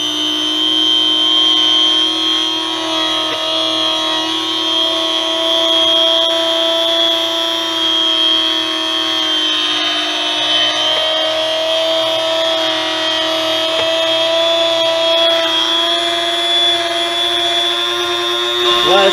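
An electric meat slicer runs steadily while cutting a large piece of meat into strips for jerky. It gives a loud, constant motor whine with a high tonal hum throughout, with no breaks.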